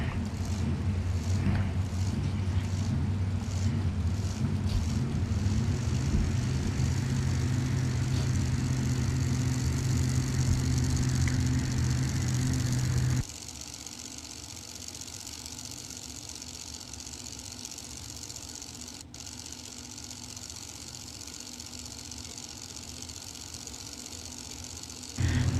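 Drag racing cars at a bracket racing event rumble loudly at the starting line, a dense engine roar that continues for about thirteen seconds before dropping to a quieter, more distant hum as the cars are gone down the track.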